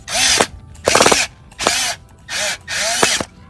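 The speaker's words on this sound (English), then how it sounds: "you can take your Phillips head screwdriver and just force it in" A Phillips screwdriver is forced into a hole on a Frigidaire gas dryer and cuts its own thread, giving five loud, close bursts of harsh grinding and ratcheting with short pauses between them.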